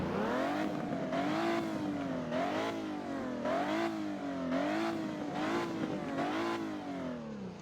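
Toyota Supra engine in the Driving Empire racing game, revved repeatedly in rising and falling sweeps, a loud, close, buzzy tone climbing and dropping about five times with no talk over it.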